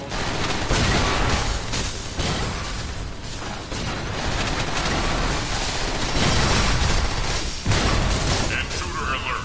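Heavy cannon fire from Transformers: War for Cybertron rumbles as a loud, continuous barrage of booming blasts and mechanical clatter, dense and steady throughout.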